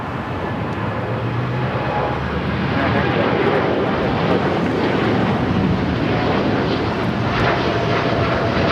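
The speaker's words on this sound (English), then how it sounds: "That Dreamliner heading to London Heathrow." A Boeing Dreamliner departs LAX bound for London Heathrow, its jet engines giving a steady, loud broadband roar that holds for several seconds, with wind buffeting the microphone.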